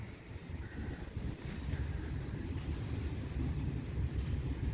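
A Norfolk Southern intermodal freight train rolls past in rainy weather in Berea, Ohio, its steady low rumble and clatter of railcars filling the scene alone, with a faint high wheel squeal now and then.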